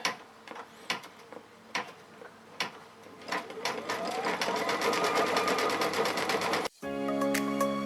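An embroidery machine stitches a name design, starting with a few separate thumps and then settling into a fast, steady mechanical chatter of needle strokes, loud and close, with a short break near the end before the clatter resumes.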